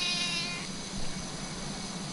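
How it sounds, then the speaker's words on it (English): A recorded cat meow plays back through a speaker, a single drawn-out call at the start sitting over steady hiss and low hum, fairly faint, with no talking over it. "I'll show you what she sounds like when she meows"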